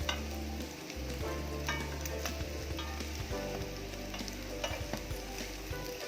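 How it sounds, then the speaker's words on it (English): French toast frying in a pan until golden brown, giving a steady, close sizzle and crackle with small pops and scrapes throughout, no talking. "you need to fry them until you can see the toast turning brown, golden brown"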